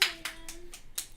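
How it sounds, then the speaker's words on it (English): Sparse, thin applause from a small quiz-night audience: about five separate claps spaced evenly over a second, light and unenthusiastic, with no voices. "Tepid comes to mind when I hear that applause."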